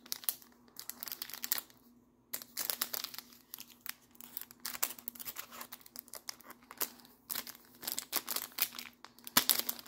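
A Yu-Gi-Oh card pack's foil wrapper crinkles and tears up close in quick bursts of crisp rustling, with short pauses between them.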